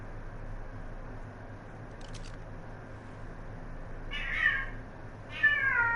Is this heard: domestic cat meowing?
yes